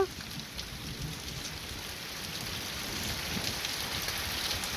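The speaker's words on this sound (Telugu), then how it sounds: "బాగా వస్తుంది వర్షం చూడండి" Steady heavy wind-driven rain pours down in a continuous broadband hiss with a low drumming undertone, unchanging throughout and with no voices.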